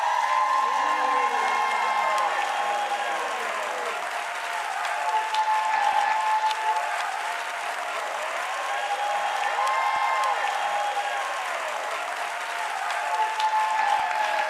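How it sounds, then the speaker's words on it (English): A stage audience applauds and cheers as the singer behind a viral hit is introduced, with sustained loud clapping, whoops rising above it, and tonal voices or sound running underneath the whole stretch. "please give a round of applause to the creative force behind that viral hit"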